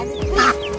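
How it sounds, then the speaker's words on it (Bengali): A duck squawks once, briefly and loudly, as it is being caught, a short nasal cackle heard close by. "ওই যে হাঁস ধরছে"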